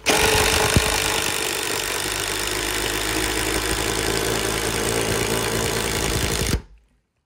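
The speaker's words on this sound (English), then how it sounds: "because I'm using a larger drill bit" A loud, steady motorized whine runs continuously for several seconds, like a power drill with a large bit under load while framing a gate, then cuts off abruptly near the end.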